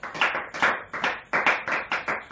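Congregation at a Pentecostal church service clapping in unison to acclaim Jesus, six or seven sharp rhythmic claps at a steady beat, close and full, with no talking.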